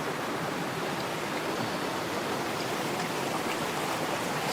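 Shallow stream water rushes steadily over and through rocks that dam it into a pool, a constant broadband hiss and gurgle recorded close up, with no voices.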